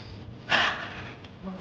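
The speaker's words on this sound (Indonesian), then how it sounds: "Tarik nafas dari hidung." A single sharp nasal inhale taken during an easy outdoor group walk: one brief breathy burst, fairly close, with faint murmuring voices before and after.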